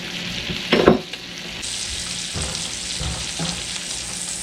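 A steak sizzling loudly in a hot pan while being basted with rosemary and thyme, steady frying crackle with a sharp clatter of spooning and spattering bursts.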